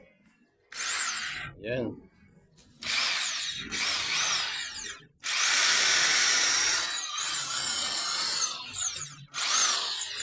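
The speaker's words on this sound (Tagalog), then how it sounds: "Ito naman drill, titistingin natin kung gumagana." A cheap 3-in-1 power tool (grinder, drill and jigsaw) running as a drill: loud whirring in several on-off bursts of varying length, with a brief spoken word between runs.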